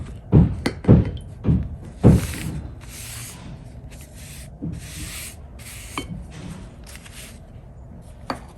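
A wide 3-inch wash brush is rubbed across vintage Pi paper to soften a Chinese desert landscape painting, giving a few firm early strokes followed by softer, longer swishing passes, close and with no talk.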